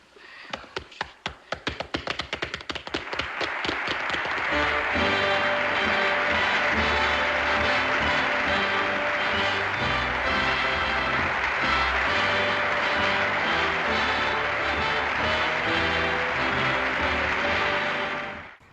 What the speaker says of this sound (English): So, now it's our turn to applaud you.